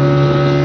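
A fishing trawler's engine at sea off Digha, a loud, steady droning hum with strong low tones, heard alone and close without any talk.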